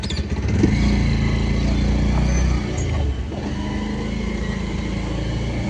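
A car engine idles and hums steadily nearby as the car slowly reverses and turns, with a louder rumble early on that eases slightly midway, with no talk.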